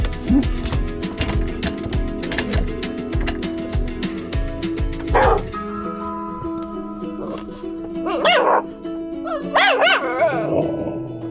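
Small abandoned puppy found in the desert giving repeated sharp, high yips and barks in quick bursts, close and loud, with whimpering squeals near the end.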